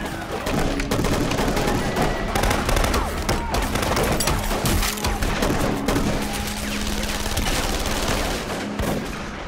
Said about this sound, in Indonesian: Tepat ketika Caleb akan menghabisi Charlie, dari kejauhan Marcos langsung menembak kelapanya